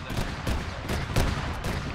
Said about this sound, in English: BTR is shooting at us.